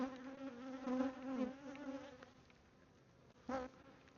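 Buckfast honey bees buzz at the hive, a close droning hum that wavers in pitch as individual bees pass near, with a brief louder swell toward the end.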